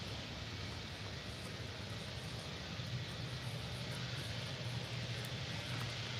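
A United Boeing 757 airliner bound for Newark taxis at Faro Airport, its engines a steady, even roar that fills the air without pause and with no voices over it.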